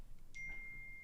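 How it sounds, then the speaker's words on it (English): A phone's notification sounds as one faint, sustained electronic beep that holds steadily after a brief onset, in an otherwise quiet room. "that was my phone"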